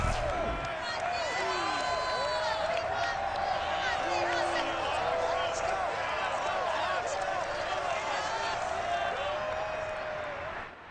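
Stadium crowd at Lumen Field in Seattle during a 49ers–Seahawks game in the video game Madden NFL 22, a dense continuous roar with whistles and shouts mixed in, with people talking over it.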